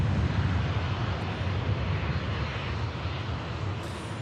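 An Embraer E195 jet in new livery at Manchester Airport makes a steady, fairly faint engine roar with broad rumbling noise and a touch of wind, and no voices.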